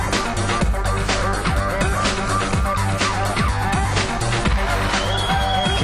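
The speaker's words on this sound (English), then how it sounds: "You can hear the crowd right now cheering for the two players here." A crowd at a World Cyber Games WarCraft III grand final cheers loudly and continuously, with sharp claps and shouts over a dense roar, close and busy throughout.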